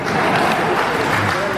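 An audience at a business talk in Kerala claps in a dense, steady burst of applause, loud and close, with a voice speaking over it.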